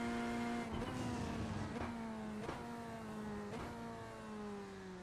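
Race car engine in the iRacing sim, heard from outside the car, droning steadily with a rising pitch that drops sharply at several gear shifts, loud and alone.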